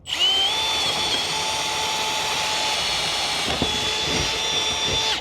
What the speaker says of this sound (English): we use a 1/4 inch drill bit, and we drill just right down the center of the extruded aluminum